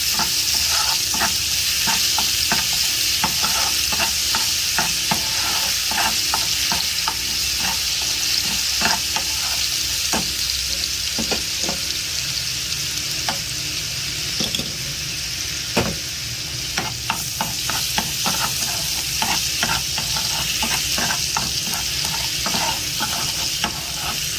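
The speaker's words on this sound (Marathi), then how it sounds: "आलं लसूण पेस्ट चांगली भाजून घ्यायचे." Ginger garlic paste roasting in a hot pan gives a loud, continuous sizzle broken by frequent scraping stirs of a spatula, close up and without talk.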